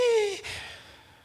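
A voice imitates the labored, rasping breathing of a gravely ill elderly cancer patient wasted to 36 kg, a single drawn-out gasping sigh that trails into a fading, breathy exhale, close and clear.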